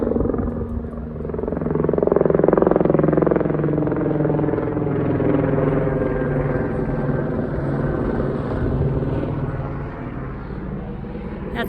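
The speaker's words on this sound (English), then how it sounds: "That's our medical helicopter heading to the hospital." A medical helicopter heading to a hospital passes overhead, its rotor drone swelling loud around the two-second mark and then holding steady as a broad, throbbing rumble.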